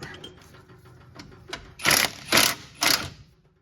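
Three quick ratcheting bursts from a wrench loosening a bolt on the steering gear of a 2001 Dodge Cummins, each under a second, close and fairly loud after a quiet stretch of faint shop noise.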